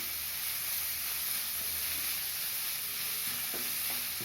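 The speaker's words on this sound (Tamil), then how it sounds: "கேரட்டு சேர்த்து 2 நிமிஷம் வதக்கணும்" Carrots and onions sauté in a pan for vegetable noodles, giving a steady, airy hiss of frying with a couple of soft stirring scrapes toward the end.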